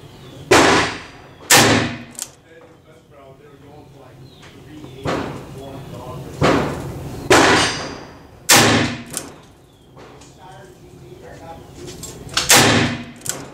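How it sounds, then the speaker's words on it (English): Ruger Blackhawk flat top .357 Magnum revolver fired with Blazer 158 grain Magnum ammunition, about eight sharp, loud reports spaced roughly one to two seconds apart at an outdoor range, each with a short decay. "Now, 357 fans, we're shooting the flat top Ruger Blackhawk with the same blazer"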